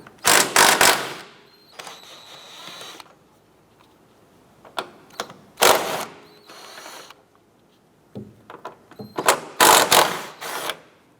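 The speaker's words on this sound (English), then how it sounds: "Let's go ahead and use a 17mm socket. We're going to remove the 3 nuts on the strut tower here." A ratchet with a 17mm socket clicks in rapid bursts while removing the strut tower nuts on a 2004-2008 Acura TL. There are several close, crisp runs of pawl clicks with quiet pauses between them.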